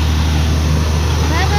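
A vehicle engine runs at a steady idle, making a continuous low, droning hum close by, with a voice talking over it.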